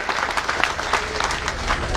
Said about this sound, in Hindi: उनके लिए भी एक कस के ताली लगाएं